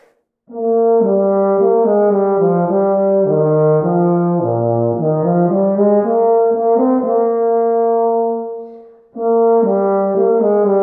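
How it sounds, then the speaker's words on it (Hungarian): A warm, mellow brass tenor horn plays a slow, smooth melody up close, holding long notes, pausing briefly, then resuming. "ő volt a tenorkürt vagy baritonkürt"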